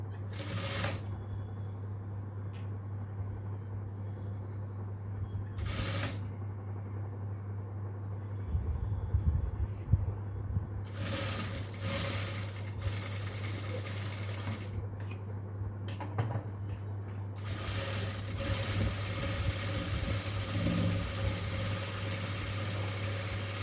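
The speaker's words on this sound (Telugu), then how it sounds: "ఈ మిగతా గ్యాప్ అంతా ఫ్రిల్స్ పెట్టుకుని కుట్టుకోవాలి" A sewing machine stitches frills onto a baby frock. The motor whirs steadily at a constant hum, while bursts of stitching and handling noise come and go close by.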